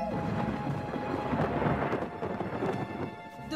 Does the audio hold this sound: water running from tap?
no